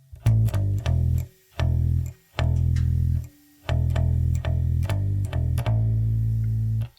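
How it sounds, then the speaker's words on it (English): A deep, distorted bass guitar riff of a few repeated notes, played in short phrases with brief pauses between, loud and close. "This is a classic bass line that almost everybody has heard before."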